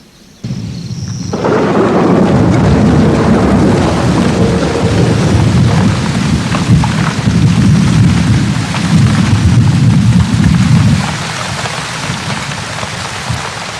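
Heavy rain pours down across open plains in a thunderstorm, a loud, dense roar of falling water with deep rumbling thunder underneath, continuous throughout and without any voices.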